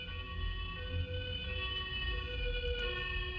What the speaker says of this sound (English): you hear the siren. It starts at one pitch,